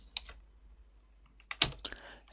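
Code being typed on a computer keyboard during C programming, a few sparse key clicks, then a quick cluster of sharper, louder keystrokes, close and quiet with no talking.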